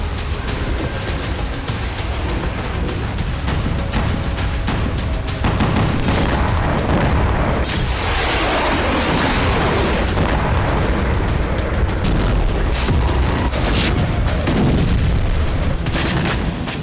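Hezbollah missile and rocket strikes from Lebanon pound the Mount Meron airbase in northern Israel, a dense, continuous roar of heavy booms and rumbling blasts that stays loud and unbroken throughout, with no voices.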